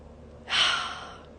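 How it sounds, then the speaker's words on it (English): One slow, deep inhalation through the mouth during a guided meditation, a soft airy rush lasting under a second, close and alone. "Take a deep breath in."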